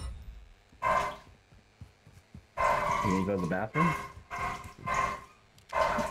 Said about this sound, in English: So he's probably barking because he's in the kennel and he hears me.